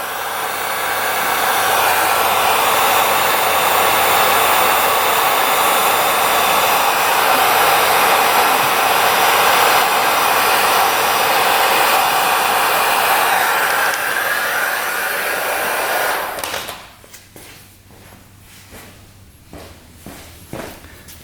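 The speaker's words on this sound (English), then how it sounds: "Using a heat gun. Heat up that gas line a little bit." A heat gun blows loudly and steadily on a brittle motorcycle gas line for about sixteen seconds, then cuts off, leaving faint handling noises and light clatter.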